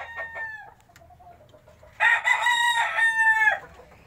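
A rooster crows loudly and nearby in one long call, preceded by softer clucking and calls from chickens in a small rooftop coop on a third floor.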